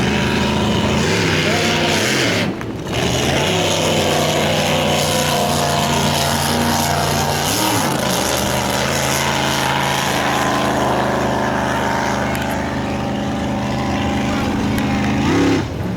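A racing powerboat on the river at the 2012 Taree Easter Powerboat Classic, its engine a loud, steady droning roar throughout with slight pitch swells as it passes, joined by faint voices.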